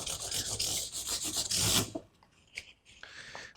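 A metal file rasps back and forth along guitar fret edges in steady strokes, close and dry, followed by a few lighter scrapes and brief pauses.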